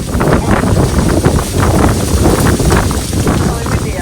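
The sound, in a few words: strong wind outdoors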